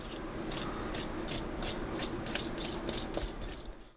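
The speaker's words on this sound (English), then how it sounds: "We're just going to whisk that well until all of the ingredients are well combined." Flour and pumpkin pie spice whisked together in a bowl for a pumpkin streusel loaf, making about eight rhythmic, scratchy strokes at a steady pace, close and moderately quiet, with no talking.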